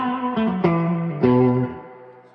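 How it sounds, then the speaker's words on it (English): Clean electric guitar chords ring out through a vintage Fender Super Reverb amp, a few struck notes blooming with heavy spring reverb and trailing off in a long decaying wash. "you got this amazing reverb sound, coupled with this singing clean sound"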